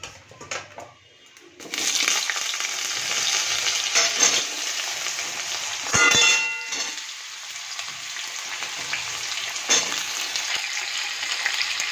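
Potatoes hitting hot oil in a wok already spiced with bay leaf, dried chilli and five-spice seeds, bursting into a loud, steady sizzle after a quiet start, with scraping stirs and a brief clatter midway.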